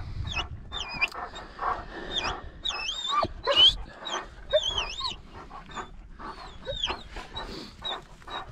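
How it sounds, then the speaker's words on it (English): Heading dogs bark and whine excitedly in the distance while moving beef cattle on a hill, over steady outdoor noise, with sharp yips scattered throughout and no talking. "So heading dogs up there doing their job."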